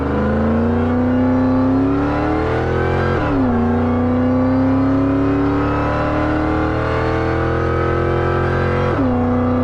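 A supercharged Ford Lightning pickup truck accelerating hard, its loud engine climbing steadily in pitch through the gears with a supercharger whine, dropping sharply at two shift points before rising again, close and continuous.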